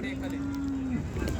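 A cow gives one long, steady moo, loud and close, over a busy background of crowd and market noise at a cattle market in Sangola, Maharashtra.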